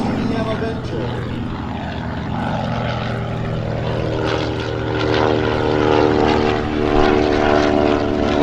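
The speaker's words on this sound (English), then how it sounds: "And the thundering roar of the TDM Avenger." A TBM Avenger propeller aircraft engine roars steadily and loudly at an airshow, a deep droning rumble that swells slightly toward the end, with faint voices underneath.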